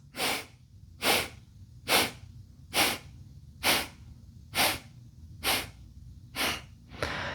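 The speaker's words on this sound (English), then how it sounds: "And then exhale in 8 sniffs." Eight short, sharp nasal exhalations in an even rhythm, about one per second, as part of a segmented breathing kriya practice; close and clear with a faint low background hum.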